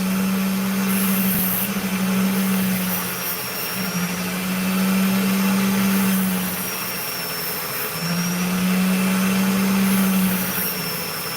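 A lapidary machine cutting and grinding an opal gives a steady, loud whirring drone with a low hum that swells and fades in long cycles, and no voices.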